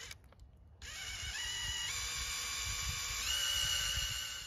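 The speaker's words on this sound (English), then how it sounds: "he's going to try and make sure he drills in nice and straight" A power drill bores a tap hole into a maple tree trunk, whining steadily at high pitch for several seconds with slight shifts in speed, loud and close, with no talking.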